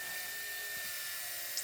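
A corded power drill mounted in a benchtop pillar drill spins a drum sanding attachment against scrap wood, giving a steady high whine with a faint grinding undertone, close and continuous.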